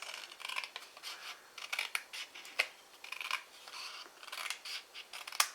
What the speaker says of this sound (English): I'm going to bring in my scissors, and we're going to cut away along this line